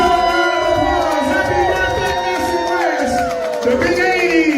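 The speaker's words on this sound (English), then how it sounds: "Give them a round of applause." Crowd cheering and whooping after a birthday song, a dense, lively roar of many voices with shouts rising above it and continuing throughout.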